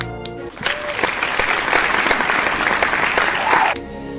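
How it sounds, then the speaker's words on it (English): A burst of enthusiastic applause from a crowd, steady and dense for a few seconds before stopping abruptly. "Give yourself a round of applause."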